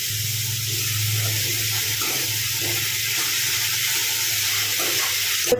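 Onion and ginger sautéing in hot oil with green chillies and salt for mushroom masala, a steady close sizzle with stirring clatter and a low hum underneath, no voices.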